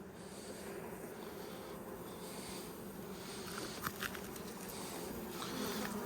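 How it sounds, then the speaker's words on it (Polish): Honey bees hum in a steady, dense drone at an open hive, a continuous buzzing swarm close to the listener with a few brief louder passes. "No takie grzeczne te pszczoły"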